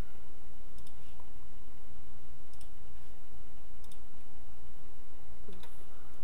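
Mouse clicks sound during number entry for a 75th birthday present, a few sharp, faint ticks spaced a second or so apart over a steady low hiss.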